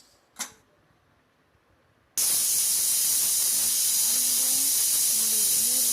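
A pressure cooker cooking horse gram with tomatoes bursts into a loud, sustained steam hiss after a quiet start with a brief knock, the whistle holding steady and close.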